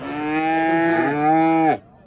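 A young bullock at the Karshi Karvon cattle bazaar lets out one loud, close, drawn-out moo lasting nearly two seconds, then cuts off sharply. No one speaks.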